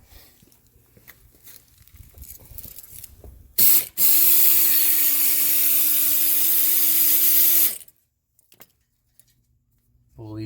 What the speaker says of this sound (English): I'm loosening the lower brake caliper bolt.